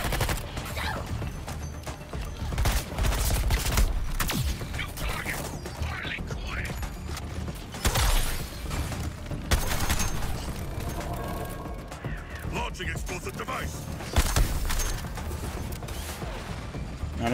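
Dense, busy gunfire from the video game Suicide Squad Kill the Justice League, rapid bursts and mechanical clatter running throughout at a steady, loud level, with some voices mixed in.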